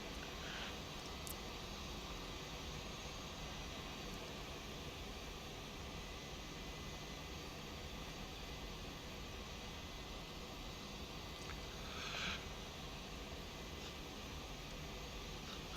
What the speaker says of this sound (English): I love doing full-length takeoffs because a lot of times we might be getting airborne